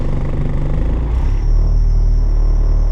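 A 1986 Porsche 944 non-turbo engine turns over and settles into a deep, steady idle, its low rumble loud and close, with a thin whine appearing as it catches.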